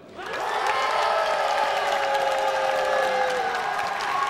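Studio audience at a Korean army-base variety show applauding loudly and steadily, a dense wall of clapping with some cheering that swells in and holds for several seconds.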